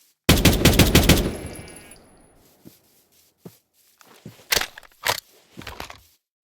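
A rapid automatic burst of video game gunfire from a weapon in Minecraft with the TACZ mod, loud and close, followed by a ringing tail and scattered clicks and clunks of weapon handling.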